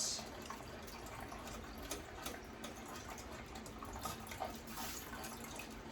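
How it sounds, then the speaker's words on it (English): Soft running water, cold water poured into a jello mixture, a faint steady trickle and splash, fairly quiet and continuous. "slowly mix in the cold water until it has thickened"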